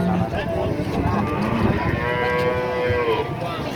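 Cattle mooing at a busy cattle market, a loud drawn-out low moo with more lowing beneath, close by, set against constant crowd and market noise.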